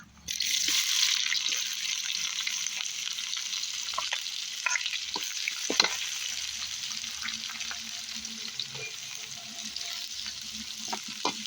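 Whole spices, cloves and stone flower, frying in hot oil for mutton thokku, with onions going in. A loud, continuous close-up sizzle runs throughout, with occasional stirring scrapes and clatter, and no talk.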